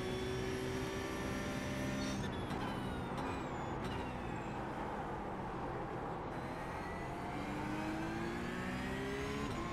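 A Porsche Cup car engine drones at Hockenheim in iRacing, with its steady tonal whine rising and falling as the revs change and a few brief clicks from shifting, heard alone at a low, even level.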